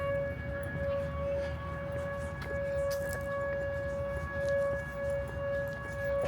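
A steady monthly test siren from the Shearon Harris nuclear plant wails in the background across the whole stretch, fairly faint under outdoor ambience with no talking.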